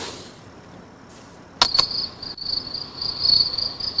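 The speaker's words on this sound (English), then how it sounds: "This is crickets, as if it's outside, you know." A studio cricket sound effect chirps in a steady high trill, starting after a short click and continuing with uneven pulses, fairly loud and close.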